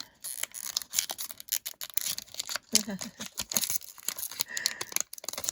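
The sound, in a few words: tearing open a trading card mystery pack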